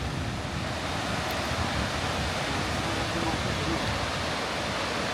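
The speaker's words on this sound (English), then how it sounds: "you've got the main waterfall." Main waterfall at Devil's Bridge in the Vale of Rheidol, a steady, loud broadband rush of falling water that continues without a break throughout.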